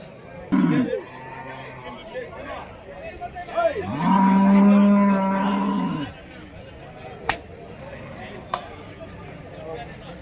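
Buffaloes low and moo at a busy cattle market, one long loud bellow standing out near the middle over steady crowd chatter, livestock noise and occasional sharp knocks.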